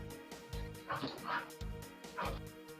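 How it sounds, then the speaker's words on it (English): A dog barks loudly in a repeated rhythm, several sharp woofs spaced about half a second apart, with faint whimpering yips between them and people talking over it. "Man, that dog is loud."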